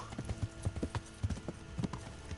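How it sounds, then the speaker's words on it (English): Horse hooves pound in a steady galloping clip-clop rhythm in a video game, quick evenly spaced thuds up close, with no talk over them. "We're at a full gallop."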